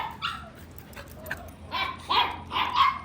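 Several short, high yappy barks from puppies, nearby, coming in quick bursts after a few faint whimpers.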